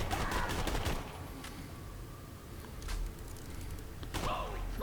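Jakobs assault rifle firing in Borderlands The Pre-Sequel, a few separate sharp shots spread across the moment with quieter game ambience between, moderately loud.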